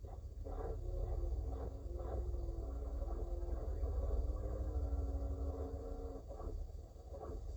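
A steady mechanical whirring and clattering with shifting tonal whines, continuous and fairly close, from a swarm of robot dogs moving together.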